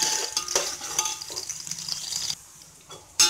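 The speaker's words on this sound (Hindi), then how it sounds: "मैंने ऑयल गरम कर लिया है, और यहाँ पर हमने प्याज ऐड कर देनी है" Chopped onions frying in hot oil in a pot for chicken pulao give a steady close sizzle with clinks of stirring, then a brief hush before the sizzle flares again.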